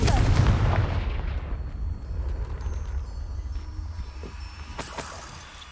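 Confringo blast spells exploding in the video game Hogwarts Legacy, a loud booming burst at the start that rumbles and fades into a low roar, with a sharper crack near the end.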